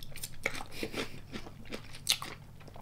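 Close, crisp crunching and chewing of crunchy fried food, several distinct bites and chews with short pauses between them, fairly quiet and with no talking.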